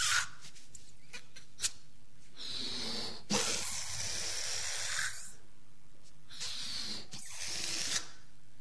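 Air escapes from a small balloon in several long, breathy hisses of varying length, some abrupt and spitting, close and fairly quiet, with short gaps between them.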